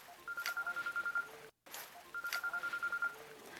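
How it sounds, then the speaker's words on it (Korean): A phone alarm beeps in two quick runs of rapid electronic pulses, split by a brief silent gap, fairly quiet and with no speech. "알람이야, 알람."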